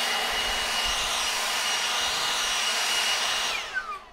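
A blower roars steadily against a porch mosquito curtain, a loud close continuous whoosh that winds down with a falling whine near the end.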